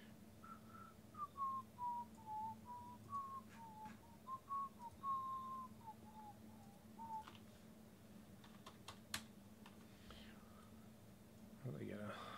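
Someone whistles a wavering, meandering tune close by for several seconds. Scattered clicks and a faint low hum follow once it stops.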